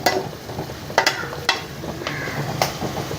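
Onion and capsicum frying in hot oil in a pan for chilli chicken, a continuous close sizzle with several sharp spatula scrapes and stirs spaced through it, no talking.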